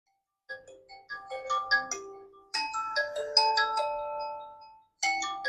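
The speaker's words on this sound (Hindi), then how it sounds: "रिंगटोन।" Melodic chiming ringtone from a vivo Y18 smartphone, a bright sequence of bell-like tones in two phrases with a short pause, then the tune restarting, clear and close with no talk.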